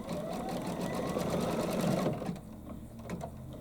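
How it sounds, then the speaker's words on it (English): A Baby Lock embroidery machine sews slowly on a ribbon project, giving a close, steady mechanical whir that eases and quiets partway through. "I'm on a baby lock, so if I hold this in, it will sew in slow motion"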